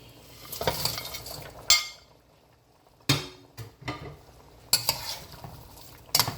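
Pork being stirred into a sweet and sour sauce of pineapple juice, lemon and ginger, with close scraping and clinking strokes in several loud bursts separated by quieter pauses.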